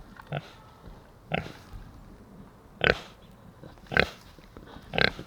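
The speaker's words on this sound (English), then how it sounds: "And so recently we moved in Elvira, our mama pig, back in with Zeke so that way we can make more cute piglets." A pig grunts five times in short, spaced bursts, fairly close, with quiet pauses between each grunt.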